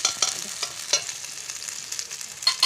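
Spices frying with turmeric in a hot pan, a steady sizzle broken by scraping stir strokes at an uneven rhythm, close and fairly loud with no voices.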